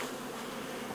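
Dense, steady buzzing of a crowd of honeybees around a hive, poisoned by chemicals sprayed on nearby fields, a continuous close drone with no voices.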